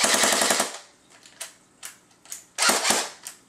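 Airsoft DE UMG submachine gun with its stock closed, firing a fast full-auto burst of rapid cracks, then single and short shots, with another quick burst, loud and close.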